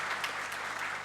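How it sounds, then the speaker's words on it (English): Applause from an audience at a book launch for a textiles publication, a dense, steady wash of many hands clapping that carries evenly through the whole moment, moderately distant and without any voices over it. "I would love a sound of applause for you"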